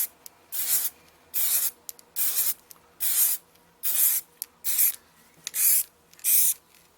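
Aerosol can of Plasti Dip spraying onto a graphics card in eight or nine short, even hissing bursts with brief pauses between, close and clear with no talking.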